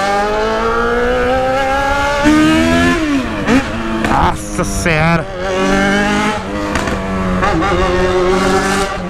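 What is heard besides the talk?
Yamaha XJ6 motorcycle engine roaring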